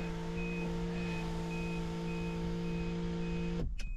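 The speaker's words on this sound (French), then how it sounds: "le toit ouvrant qui bip bien évidemment" A steady, evenly spaced series of high electronic beeps from the sunroof warning of a 1998 Rover 820ti 2.0L turbo repeats over a low engine hum inside the car, ending with a brief burst of noise.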